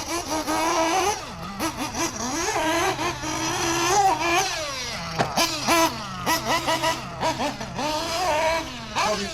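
A small RC car engine buzzes and revs in quick bursts, pitch rising and falling sharply, loud and close throughout.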